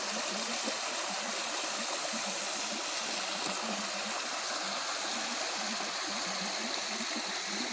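A small waterfall in a dark, tree-shaded forest on a lake trail pours steadily, a dense continuous hiss and splash of falling water close by, with no talk.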